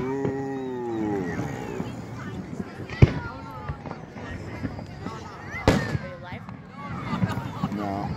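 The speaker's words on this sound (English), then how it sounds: "And so the fireworks have begun." Fireworks at a lake festival pop and bang intermittently in the distance, two sharper blasts standing out, while people nearby talk and exclaim over them.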